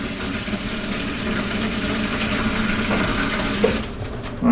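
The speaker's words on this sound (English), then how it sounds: "so you just put a little water in the pan" Water pours into a cooking pan for deer bombs, giving a continuous hissing, trickling wash with a low hum underneath and a brief louder splash at the end.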